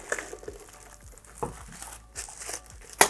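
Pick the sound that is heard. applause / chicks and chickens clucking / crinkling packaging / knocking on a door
crinkling packaging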